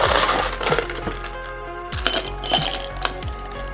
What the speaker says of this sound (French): On rajoute nos glaçons.